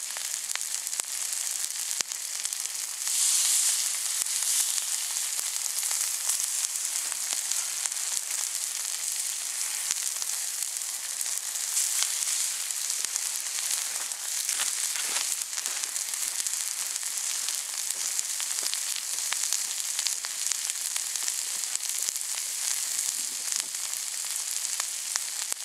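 Sausages, kebabs and steak sizzle on a grill over an open camp fire, a continuous bright crackling hiss with small pops, steady and close throughout.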